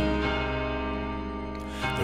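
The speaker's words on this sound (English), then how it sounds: "The ringing of the division bell had begun." Ringing of a bell within a song, a sustained tonal chime with rich layered overtones under musical accompaniment, swelling slightly near the end.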